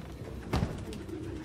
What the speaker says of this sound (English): Move, pigeon.